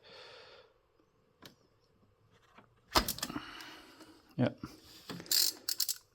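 Ratchet clicks and a bolt being worked loose on a BMW E46 Compact engine during timing chain work, a few brief metallic bursts close by, louder and denser in the second half after a quiet start.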